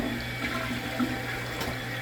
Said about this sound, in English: At this point, flush.